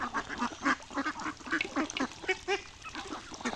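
A flock of ducks quacks repeatedly in quick, overlapping bursts, close by and moderately quiet, with no talking.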